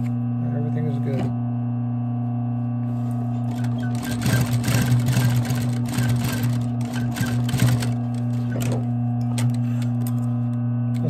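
A sewing machine stitching the lining of a Supreme varsity jacket under restoration rattles in a short burst of stitching over a loud, steady electrical hum, with quiet stretches before and after.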